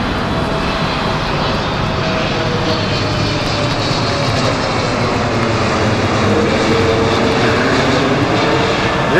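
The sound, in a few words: airplane flying overhead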